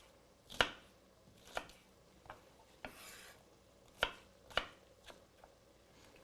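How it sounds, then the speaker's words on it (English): A knife chops fennel bulb into julienne strips on a cutting board, about eight separate crisp cuts spaced unevenly and heard up close, with no talking. "Just a nice julienne."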